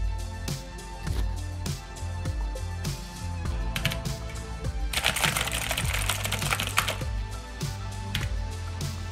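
Rapid clicking of keys on a computer keyboard runs throughout, close and steady, with irregular bursts of faster tapping over a faint background hum.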